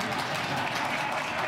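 Audience applause during the NYPD commissioner's State of the NYPD address: a brief, steady wash of many hands clapping at even loudness throughout.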